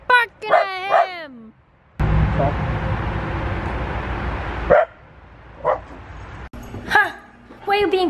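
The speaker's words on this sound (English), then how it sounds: "Stop barking at him!" A dog gives a few short barks and yips near the start and end, separated by a stretch of loud rustling noise and a person speaking.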